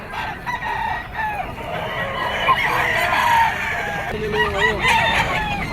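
Roosters crow repeatedly and hens cluck among gamefowl at a standing seller's pen, several birds calling close by with overlapping, wavering cries over a busy outdoor background.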